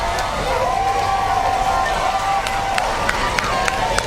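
Vocal, emotional crowd at a Little League World Series baseball game between Mexico and Venezuela, a steady loud roar of cheering and shouting with whoops, and some scattered claps standing out near the end.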